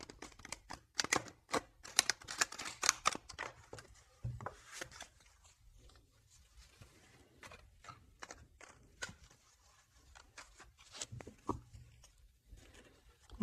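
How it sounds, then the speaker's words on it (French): Tarot cards shuffled by hand make quick, crisp clicking and slapping bursts, close and quiet, heaviest at the start and then coming in sparser clusters. "Je vais faire un petit peu de bruit pour bien mélanger les cartes."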